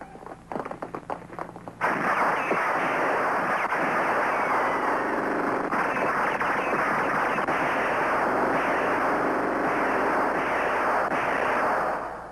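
Heavy gunfire and explosive blasts fill a battle scene from a 1966 science-fiction TV series, a sharp burst of rapid shots at the start giving way to a dense, continuous roar of firing that stays loud throughout.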